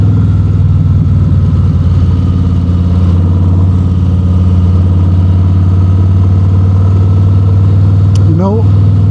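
A motorcycle engine drones steadily and loudly while riding through wildfire smoke in Canada, a constant low hum with a brief rising whine near the end.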